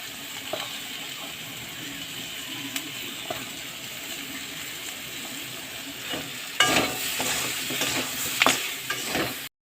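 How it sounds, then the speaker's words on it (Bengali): Slit green chillies fry in a pan for a pomfret fish dish with bitter gourd and potatoes; a soft steady sizzle with occasional stirring clicks swells into a louder, busier frying and stirring sound near the end. "কাঁচা লঙ্কাটা দিয়ে দিয়েছি দিয়েও আরও বেশ কিছুক্ষণ আমি ভেজে নিলাম"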